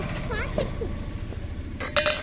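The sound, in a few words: stirring sharbat with jaggery, utensils clinking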